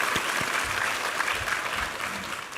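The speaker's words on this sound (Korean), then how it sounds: "우리 하나님께 감사와 영광의 박수 올려드리겠습니다" Dense, lively applause rises from a church congregation at a Sunday worship service, many hands clapping together steadily and close for a couple of seconds.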